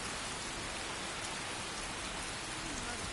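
Steady, dense rain falls in the game Skyrim, a loud, continuous hiss of drops across the whole stretch with no voices over it.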